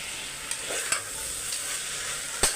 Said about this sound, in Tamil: நல்லா ஒரு அஞ்சு நிமிஷம் வதக்கி விட்டுக்கோங்க